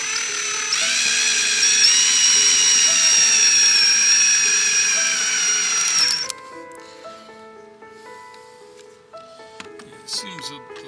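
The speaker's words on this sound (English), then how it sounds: "we are starting to put the screws for the cover down" Power drill driving screws into a fan cover during a fan installation: a loud whining spin lasting about six seconds, then quieter handling sounds with faint music underneath.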